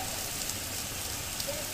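Heavy rain falls outdoors in Noida, Delhi-NCR, as a steady, soft, even patter heard at a distance, with no voices.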